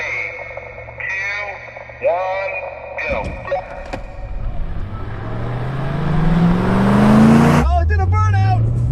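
A Hyundai Elantra and a Chevrolet Corvette accelerate in a drag race, an engine roar rising in pitch through a long pull, shifting up, then climbing again, under excited talk and announcer-like speech.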